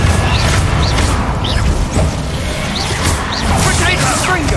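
Spell explosions from the Confringo fire curse in Hogwarts Legacy, booming bursts over dense game combat noise and music, with a voice talking throughout.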